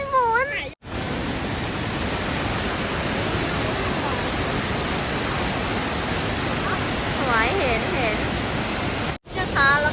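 Steady broadband roar of the Lechfall waterfall in Füssen, Germany, fills the scene, with a voice speaking briefly at the start and end over the rushing water.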